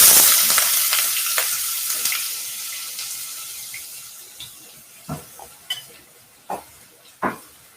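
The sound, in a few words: onion frying in tempered mustard seeds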